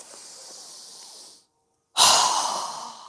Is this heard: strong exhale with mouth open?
yes